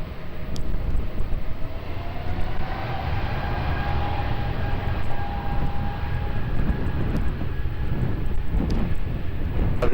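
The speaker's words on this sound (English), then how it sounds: "C-Series Bombardier now starting to roll" A Bombardier C-Series airliner begins its takeoff roll on the runway at Lisbon Airport, a steady broadband engine roar with a faint rising whine, continuous and fairly distant.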